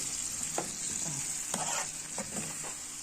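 Tomatoes tipped into a hot oiled frying pan sizzle steadily, with a few scraping stir strokes and soft clatters of a utensil against the pan, close by and without talk.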